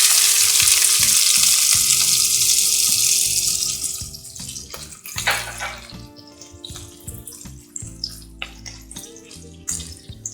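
Half a chopped onion hitting hot oil in a pan for mushroom masala gives a loud, steady sizzle that drops after a few seconds into quieter crackling and stirring.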